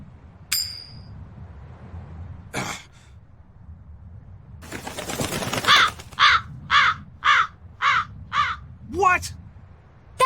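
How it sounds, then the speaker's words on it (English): A crow caws in the video game Tales of Berseria, a run of five or six rhythmic harsh calls, loud and close, following a clatter and a flapping rush. "That crow just flew off with the coin!"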